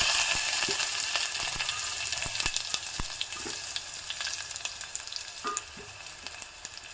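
Chopped garlic and a small chopped onion fry in a pan with a bright, steady sizzle that slowly fades, broken by sharp crackles and pops and the occasional scrape of stirring, close and without speech.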